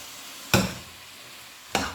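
Turnips and tomatoes stirred in a frying pan, with two sharp utensil clanks about a second apart over a quiet, low background.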